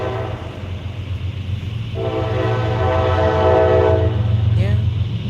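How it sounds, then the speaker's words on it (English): A freight train rolls past with a steady low rumble, and a horn-like tonal layer swells in the middle and then fades, over continuous background noise. "Yeah, freight train."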